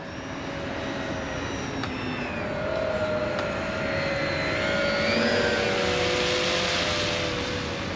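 An E-Flite Beechcraft D18 twin-engine RC model airplane cruising just under half throttle, giving a steady droning motor whine with gentle pitch shifts as it passes, continuous and moderately loud, with no voices.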